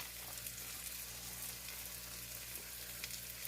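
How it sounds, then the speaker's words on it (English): Bacon sizzles steadily in a hot pan for an omelet, a dense, even crackle with tiny pops and a low hum underneath, close and continuous, no talking. "Now I'm just going to throw some bacon in there."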